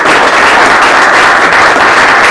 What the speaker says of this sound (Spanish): Después de que te dediquen este gran aplauso tan espontáneo y tan sincero